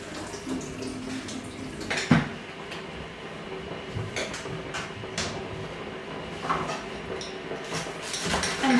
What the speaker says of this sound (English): And you want to wash it thoroughly.